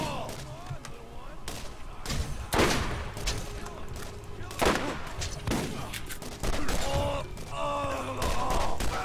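Rapid gunfire from weapons in the video game Borderlands, repeated bursts and single shots across the clip, moderately loud, with a voice talking over the action.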